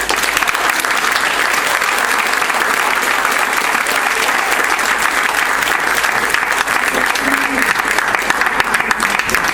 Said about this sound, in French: faites-leur peut-être un applaudissement pour les encourager